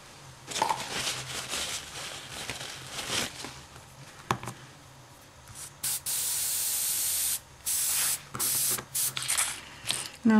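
Airbrush spraying paint over a flower design, a steady hissing spray in bursts of varying length separated by short pauses, close and fairly loud near the end.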